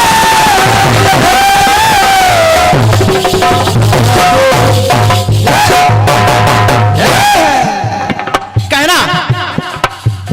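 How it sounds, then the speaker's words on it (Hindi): A large audience at a devotional Ramayana storytelling event responds loudly with dense, continuous cheering and crowd noise close by, which thins toward the end. Music and voices are mixed into the sound. "आप लोग तालियां बजाते रहिए जरा सा।"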